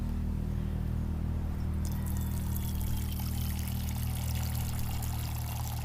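Water pouring from a backpack water bladder at a high-altitude bikepacking camp, a continuous close trickle and splash over a steady low rumble, running for several seconds.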